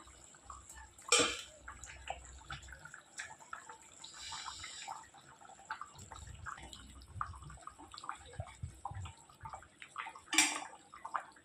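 Fish curry with potatoes and aubergine bubbling in a pot, with soft, faint wet bubbling and a few brief louder splashes and clinks at intervals.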